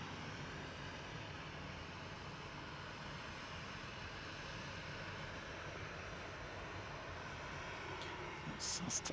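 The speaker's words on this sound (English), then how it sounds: "SAS taxiing out." An SAS airliner taxis out at Manchester Airport, giving a steady, distant engine rumble and whine that holds evenly throughout, with a faint rise near the end.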